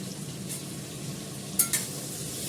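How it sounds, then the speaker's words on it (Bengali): Onions fry in hot oil seasoned with salt and turmeric, giving a steady close sizzle with a couple of brief stirring clinks near the end. "এটাকে ভালো করে লাল লাল করে ভেজে নেবো"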